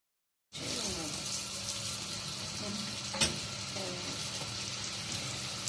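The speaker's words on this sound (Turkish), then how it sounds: "Hazırladığımız pişileri kızgın yağın içerisine atıp kızartalım." Steady, crackling sizzle of Turkish pişi bread dough frying in hot oil, close and continuous, with a brief sharper pop partway through.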